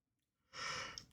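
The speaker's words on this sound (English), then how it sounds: "Big yawn." A big, drawn-out yawn or heavy sigh from a tired person, starting after a short silence and swelling into a loud breathy exhale that holds steady before tailing off.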